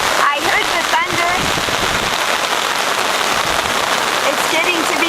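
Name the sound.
heavy rain during a storm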